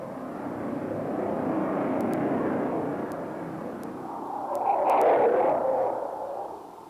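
A MiG-29 fighter jet passes overhead, its broad engine roar rising, easing, then swelling again to a louder peak before fading, heard alone without talk.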